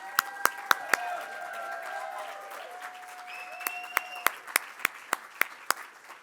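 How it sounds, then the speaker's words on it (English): A closing plenary audience at a summit gives a round of applause, the clapping scattered and fairly light, with sharp individual claps standing out near the microphone and a few sustained tonal sounds hanging over them. "I want to give you a round of applause"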